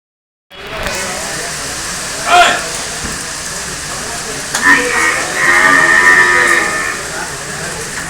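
Buffaloes moo at an outdoor buffalo market in Erragadda on a rainy Sunday, with a low bellow standing out over steady crowd murmur and background clatter.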